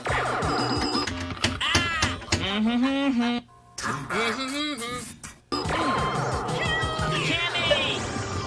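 A cat meows repeatedly in rising and falling calls, loud and close, with short pauses between bursts, over game sound effects from the Space Ace video game.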